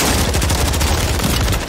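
Video game gunfire with dense, continuous rapid shots blending into a loud, heavy low rumble. The firing is close and sustained, with no voices.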